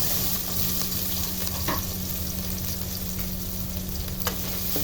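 Garlic and onion sauté in a hot pan for a chicken sinampalukan dish, giving a steady, close sizzle and frying hiss that holds for the whole stretch, with a few soft stirring scrapes and no voices.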